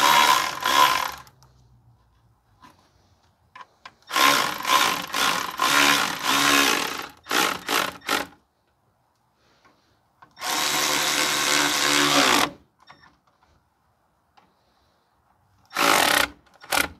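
A power tool tightens the backing plate bolts on a 2016 Ford F-150 3.5 V6 4x4 during wheel bearing work, sounding as several loud, close bursts of whirring and rattling separated by quiet pauses.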